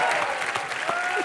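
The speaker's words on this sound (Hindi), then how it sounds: "इन तीनों के लिए जोरदार तालियां।" A television comedy show's studio audience claps together for newlywed guests, a short burst of dense applause with faint voices mixed underneath.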